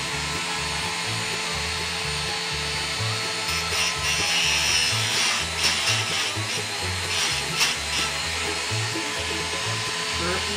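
A chainsaw chain's teeth are ground on a sharpening machine, giving a steady loud grinding whine with a pulsing low motor drone throughout, close up and continuous.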